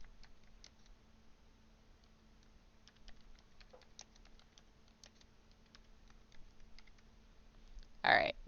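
Soft, scattered clicks of typing on a computer keyboard during a lecture, faint and quiet. A brief louder sound comes near the end.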